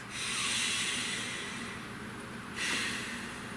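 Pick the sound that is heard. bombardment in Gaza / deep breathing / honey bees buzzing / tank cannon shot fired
deep breathing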